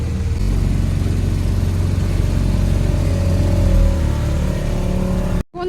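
A motorboat engine drones loud and close during a ride out to an island, with an even rumble that holds steady before cutting off abruptly at the end.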